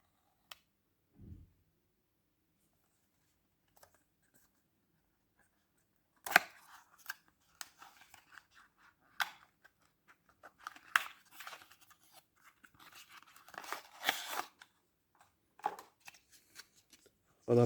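Packaging for an iPhone 12 charger being opened: sporadic crinkles, scrapes and tearing of cardboard and plastic, close and fairly quiet, with short bursts of handling separated by gaps.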